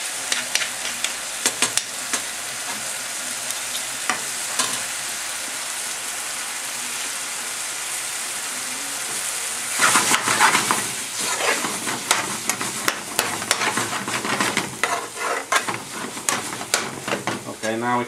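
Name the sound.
lamb balti sizzling while cooking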